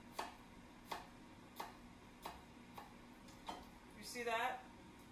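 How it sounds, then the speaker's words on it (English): Knife tip notching an onion on a cutting board: six evenly spaced, crisp taps about every 0.7 seconds, close and quiet, followed by a short rustle at the end. "make little notches with the tip of your knife in the onion"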